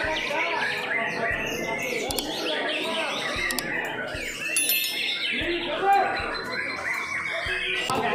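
Songbirds chirp and trill continuously amid a busy bird-song competition crowd, layered calls overlapping with chatter and voices in the background.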